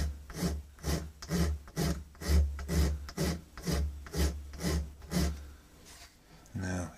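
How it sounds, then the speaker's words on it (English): A coarse warding file worked over a part of an antique Gibbs of Bristol over-and-under pistol, giving loud, close, evenly paced rasping strokes, about a dozen in a row, with no talk. "Using a relatively coarse warding file just to get somewhere near."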